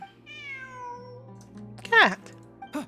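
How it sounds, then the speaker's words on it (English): A drawn-out, falling meow from a cat in Genshin Impact opens over a low, steady game ambience. A brief, louder voice-like burst follows a moment later. "Look, a cat."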